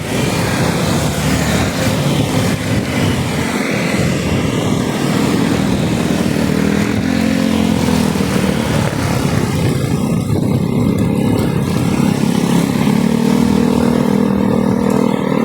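A motorcycle ridden on a road during a Monday morning commute to the office gives a steady, close engine drone mixed with wind rush that continues without a break and with no talking.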